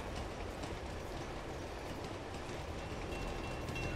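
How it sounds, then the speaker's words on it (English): A train in the Uncharted 2 video game rumbles past in a dense, steady roar with a faint rail clatter running the whole time, close and loud, with no voices. "Oh, I got run over by the fucking train."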